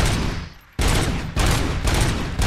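Gunfire in the video game RoboCop: Rogue City, a loud burst of rapid shots followed by two more volleys that stop and restart, with no talking.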